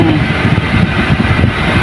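A truck engine rumbles steadily up close, a low heavy drone with slight fluctuations as the driver works the clutch and shifts into second gear.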